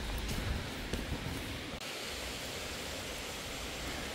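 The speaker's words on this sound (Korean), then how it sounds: "시명 폭포." Simyeong waterfall, the last of the twelve falls in the Naeyeonsan valley, gives a steady broadband rush of falling water heard from a distance, with no voices.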